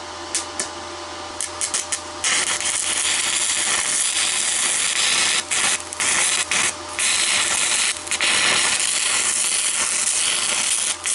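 A HZXVOGEN MIG 185 3-in-1 welder arc welds rusty metal, giving a loud, continuous crackling hiss that drops out briefly a few times before resuming.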